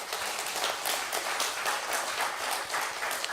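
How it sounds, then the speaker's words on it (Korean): Church congregation clapping in welcome during a Korean Reformation Sunday service, a steady dense patter of many hands filling the room for a few seconds without talk. "우리 먼저 환영의 박수하겠습니다."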